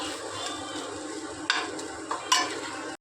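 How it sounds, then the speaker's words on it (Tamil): Stirring coconut rice mixed with fried vathal in a pan: a steady scraping, rustling stir with a faint sizzle underneath and a few sharper clinks of the spoon against the metal pan, close and fairly quiet. "ரவுண்டு வத்தலை பொரித்து சாதம் வத்தலை பொரித்து அதில் போட்டு கிளற போகிறோம்"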